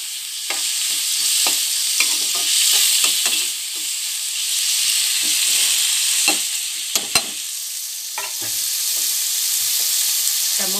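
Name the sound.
tomatoes frying with green chillies and onions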